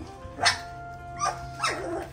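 Belgian Malinois puppies bark in three short, separate outbursts, close by and fairly loud, with a low hum and quieter yips between them.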